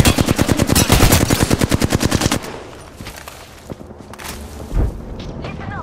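Rapid automatic gunfire in the shooter game Apex Legends, a loud sustained burst of evenly spaced shots for about two seconds, then quieter scattered game sounds and effects.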